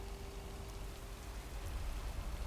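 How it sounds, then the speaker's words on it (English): Rain falls in the video game Lake as a soft, even hiss that goes on without a break, quiet and unaccompanied. "This rain sound I feel is like pretty loud"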